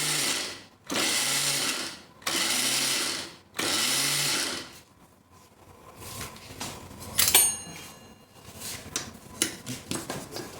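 A mixer grinder pulses a masala blend containing peanuts, three loud roaring bursts of about a second each with short pauses between, followed by quieter clattering and shuffling sounds as the jar is handled.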